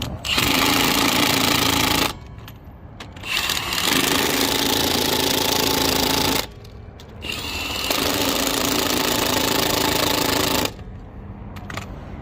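A cordless impact wrench on a low torque setting tightens the lug nuts on a Ram pickup truck's wheel in a cross pattern, giving three loud, sustained bursts of rattling hammering, each roughly two to three seconds long, separated by brief pauses.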